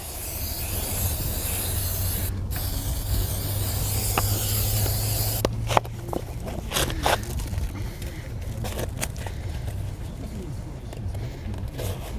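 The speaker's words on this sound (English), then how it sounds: "Get a bit of glue in there." Glue being applied along a slab edge before cordon is pushed into the corner, giving a continuous hissing, spraying sound close by. Scraping and rubbing handling noises follow toward the end.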